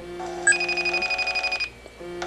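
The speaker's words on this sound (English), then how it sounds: "you're going to see that it is ringing with your ringtone" A custom ringtone plays on an iPhone running iOS 10 during an incoming call, a bright repeating electronic melody of pulsing tones, close and clear, briefly stopping then resuming.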